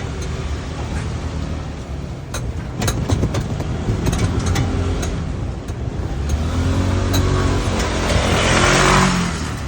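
A tuk tuk grinds up a steep hill, its small engine straining and revving loudly under load with rattling clatter, the drone swelling toward the end, and no talk over it.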